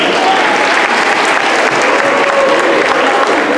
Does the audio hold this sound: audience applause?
yes